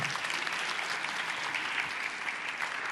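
Dense, steady clapping from a forum audience, a continuous wash of applause at even loudness throughout with no voices standing out.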